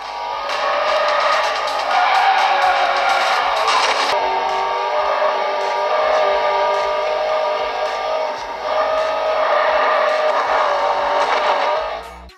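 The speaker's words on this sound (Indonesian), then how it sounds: "apalagi ini game balap." Street racing in the mobile game CarX Street, played on a small Unihertz Jelly phone: a loud, steady, close engine roar with tonal whine throughout, slight shifts in pitch and a brief dip, plus light tire and impact noises and no speech.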